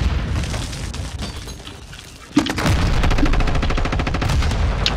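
Grenade explosion followed by rapid gunfire in Modern Warfare 2: a sharp blast midway sets off dense, loud, continuous bursts of automatic fire over a rumbling battlefield background.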